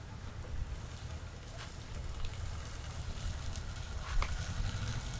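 Tomatoes and green chillies sizzle gently in a pan for a Gujarati potato poha, a faint, steady hiss with a few soft crackles throughout.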